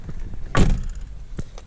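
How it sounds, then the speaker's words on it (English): A 1997 Saturn SL2 car door shuts with one solid thud, followed about a second later by a smaller click or latch sound, close up and without talk. "close the door"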